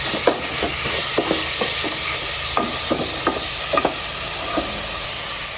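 Chicken pieces being stir-fried in a pan for a Thai bamboo shoot curry, with a steady sizzle broken by repeated scraping strokes of a spatula, close and moderately loud, no talking.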